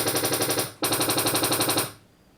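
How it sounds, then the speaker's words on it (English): Samsung smart TV sending out room-acoustics test tones, a harsh rapid pulsing burst that breaks off briefly and then resumes before cutting out, loud and close with no voices. "your TV is going to make some sounds to try and analyze its surroundings"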